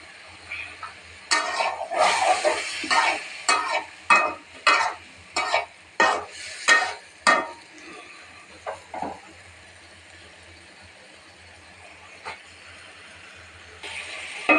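Pointed gourd and pabda fish curry is sautéed in a pan: a run of quick, rhythmic scraping stir strokes up close with a soft sizzle, then a quieter stretch with a few isolated scrapes.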